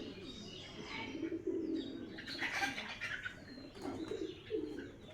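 Pigeons kept in pairs by a fancier coo softly and steadily, with a few chirps and brief wing flutters in the background and no voices.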